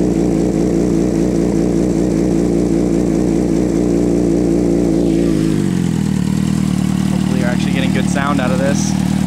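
A 2006 Suzuki GSX-R600 with a Two Brothers Racing exhaust runs close by outdoors on grass, its engine holding a loud, steady note before the pitch drops and settles lower.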